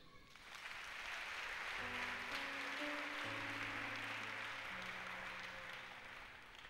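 A church congregation applauds Jesus in a broad, steady wash of clapping that swells in and fades out, with sustained organ or keyboard chords underneath.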